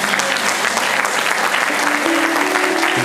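Church congregation applauding and cheering for Jesus during a French-language sermon, a dense, steady wash of clapping hands lasting the whole stretch with no break.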